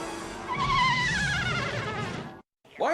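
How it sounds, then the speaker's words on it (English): Darkstalkers cartoon sound effect for the Horn of Jericho: a thin, wavering, buzzy whine that warbles for about two seconds, cuts off abruptly, then returns as a brief squeal. "In one episode, they find the Horn of Jericho, and for some reason it sounds like this."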